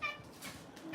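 A pet cat gives a single faint, short meow, distant and soft against quiet room noise.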